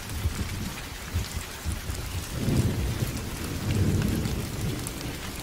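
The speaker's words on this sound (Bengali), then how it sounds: "বাইরে তখনও অফুরন্ত বৃষ্টি আর বজ্রপাতের খেলা।" Steady heavy rain hisses throughout while deep thunder rumbles swell in the middle and again near the end.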